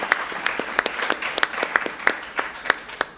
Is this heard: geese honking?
no